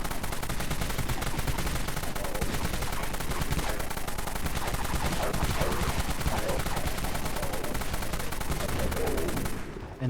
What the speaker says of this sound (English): Dusk minigun.